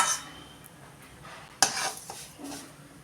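Semolina (rava) dry-roasting in a pan for banana prasad sheera, with a spoon scraping and stirring in a few distinct sweeps over a faint steady hiss, close and moderately loud, no voices.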